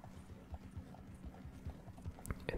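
Horse hooves clip-clop steadily in Red Dead Redemption 2, a quick, even rhythm of close, moderately quiet hoofbeats with faint background ambience.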